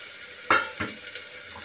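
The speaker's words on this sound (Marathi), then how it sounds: "आता आपण टाकूया आहे अळूची देठं" Taro stalks drop into a hot, crackling tempering in a pressure cooker, giving a sharp sizzling burst followed by a second softer flare of frying over a steady background hiss.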